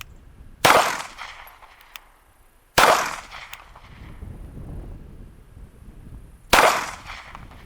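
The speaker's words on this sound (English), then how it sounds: "10 shots, 10 yards with the Sig SP 2022 and 9mm." Three sharp 9mm pistol shots from a Sig Sauer SP 2022 at a shooting range, each a loud crack with a short decaying tail, spaced a couple of seconds apart with quiet between.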